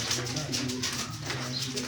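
Pigeons for sale coo in soft, repeated low throaty notes close by, a steady layered murmur from several birds with faint voices in the background.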